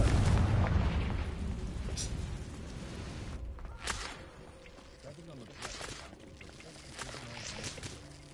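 Confringo blasting spells in Hogwarts Legacy go off as a series of sharp booming bursts, about four spaced a second or two apart, over a dense rumbling game backdrop.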